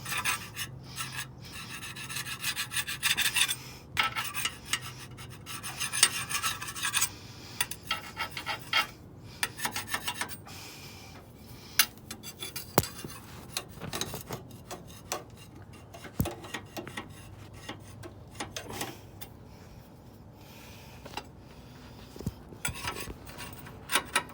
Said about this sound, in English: we're gonna have to do a little bit more scraping and cleaning on this thing to make sure there's just no more grease in it